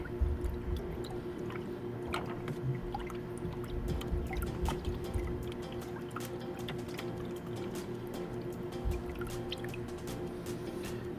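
Coral frag dip solution being stirred in water, a continuous low sloshing and swirling with small drips and splashes, steady and close, with no talking.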